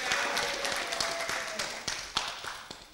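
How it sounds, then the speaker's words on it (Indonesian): Clapping from the audience at a Tasikmalaya mayoral candidates' debate, a lively spread of hand claps with individual sharp strikes standing out, easing slightly as it goes on, with a faint voice mixed in. "Tepuk tangan yang meriah untuk Pak Jinjang."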